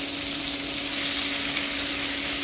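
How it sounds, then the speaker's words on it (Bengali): Pineapple chutney with salt and a little turmeric sautéing in a pan, producing a dense, steady, close sizzle that holds at an even level throughout, with no voices or distinct stirring strokes. "2 মিনিট একটু কষিয়ে নিব"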